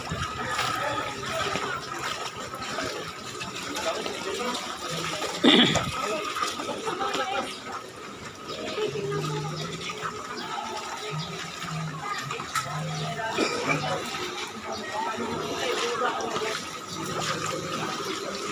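Ankle-deep floodwater covers a street in Malibay after heavy rain, giving a steady wash of splashing and rushing water with scattered louder sloshes, while a voice talks faintly underneath.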